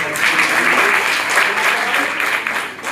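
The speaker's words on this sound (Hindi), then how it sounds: "तो ये सर के लिए जोरदार ताली हमारे" Loud, steady applause fills a hall as an audience at an anti-drug pledge campaign event at a college in Fazilnagar, Kushinagar claps for a guest, sustained and dense throughout without pause.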